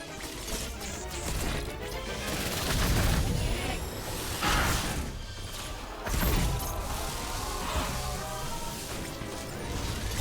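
Arm cannon shots and a chaotic boss fight against Raven Beak in the video game Metroid Dread, with repeated blasts, crashes and impacts over a dense, loud, continuous roar of game noise.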